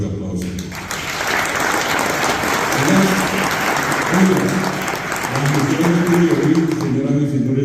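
A crowd in a hall at a ministry event gives loud sustained applause lasting several seconds, with murmuring voices mixed into the clapping.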